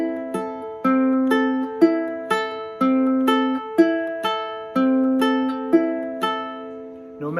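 Fingerpicked acoustic guitar, thumb and second finger alternating between the first and second strings, played slowly as clear, even plucked notes with chord changes roughly every second, close and alone.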